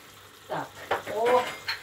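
Apples caramelizing in sugar syrup in a pan give soft sizzling and stirring scrapes in brief bursts, close and moderately quiet.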